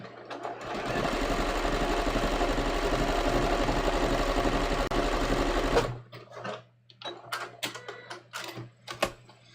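A sewing machine runs a fast, steady, close-up zigzag stitch through cashmere blend trouser fabric for about five seconds, then stops, leaving soft handling clicks and rustles.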